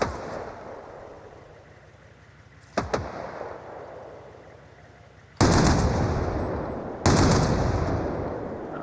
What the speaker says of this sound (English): Love running these guns on this Humvee.